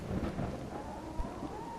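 Heavy rain pours steadily while thunder rumbles low and continuous, with one brief crack near the middle, in a horror video game demo.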